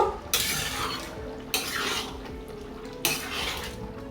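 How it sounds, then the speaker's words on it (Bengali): Papaya chicken being stirred in a pan after garam masala goes in, with three sharp scraping strokes of a spoon against metal over a low background bubble, near and without talk. "এবার আমি গরম মশলাটা দিয়ে দিয়ে দিচ্ছি দিয়ে নেড়ে নেব"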